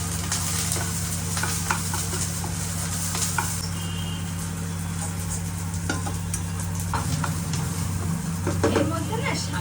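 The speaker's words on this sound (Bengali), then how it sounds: "আর একটু লঙ্কা কুচি, এগুলো একটু ফ্রাই করে নিই।" Onion, garlic and chopped chili frying in a pan, a steady close sizzle with stirring scrapes throughout, under a constant low hum.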